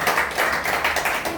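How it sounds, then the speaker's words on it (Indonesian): Applause at a student organisation leadership election after a candidate pair finishes presenting, with close, brisk clapping from a small group in quick irregular bursts. "Tepuk tangan untuk"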